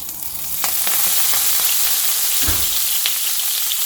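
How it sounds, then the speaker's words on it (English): Mustard seeds splutter and crackle in hot oil in a pan, a dense, loud, continuous sizzle with scattered sharp pops, no voices over it. "Mustard seeds are splattering."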